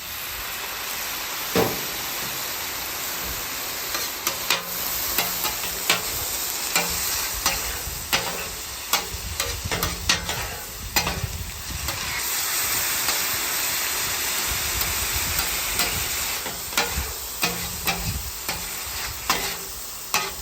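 Steak and vegetables frying on a Blackstone griddle, a loud continuous sizzle with a steady high hiss, broken by frequent sharp scrapes and taps of a spatula stirring the food.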